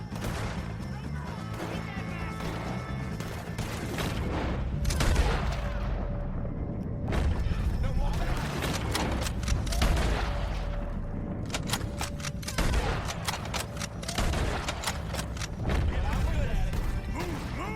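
Rapid gunfire and crashing impacts fill a Red Dead Redemption 2 shootout against the O'Driscolls, loud bursts and cracks coming in quick clusters over a continuous mix of game sound, with shouting voices in between.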